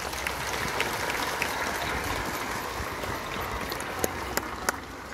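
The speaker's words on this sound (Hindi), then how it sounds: "तालियों की गड़गड़ाहट से स्वामी का स्वागत करें।" A church congregation in a parish welcomes a bishop with a dense, steady roar of applause, many hands clapping together continuously, with a few sharper individual claps standing out near the end.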